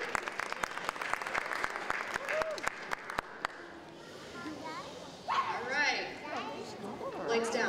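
Sparse, crisp clapping from a crowd at an elementary school cabaret lasts a few seconds, then fades into murmuring chatter and voices talking.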